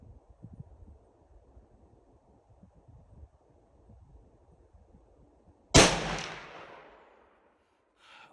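A single loud, close rifle shot from a .338-06 on a range day, a sharp crack that follows several seconds of quiet wind and handling noise and decays with a long echo.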